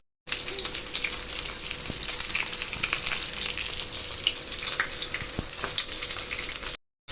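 Fish cooking on a banana leaf over a tawa with a little oil, a continuous close sizzle and crackle holding steady, with a couple of faint ticks and no talking.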